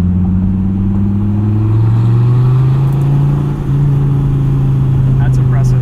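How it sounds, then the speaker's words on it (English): A 2015 Dodge Viper SRT engine, said to have a super lightweight flywheel, hums loudly and climbs slightly in pitch from inside the cabin, a sustained close drone with brief chatter. "It revs just like a maniac."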